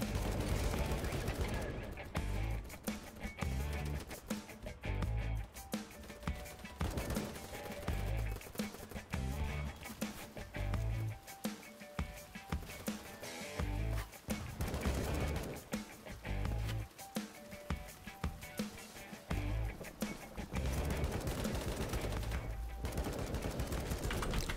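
Rapid gunfire in the first-person shooter Battlebit Remastered, with continuous bursts of automatic fire and scattered single shots, loud and near, running throughout under the mix of game sounds and a player talking.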